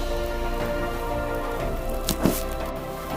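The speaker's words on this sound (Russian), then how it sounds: "Дождь маленько успокоился." Steady autumn rain falls near a small river, a dense continuous patter close by with wind, one brief louder splash-like burst midway and no talking.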